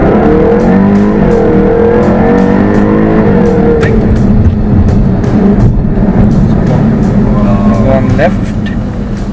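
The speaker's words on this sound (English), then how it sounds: "Straighten the car and the steering and then accelerate." A supercar's engine runs loud and close, its revving tones rising and falling as it accelerates, with people talking over it throughout.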